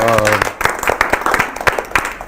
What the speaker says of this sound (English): We give an applause to the red people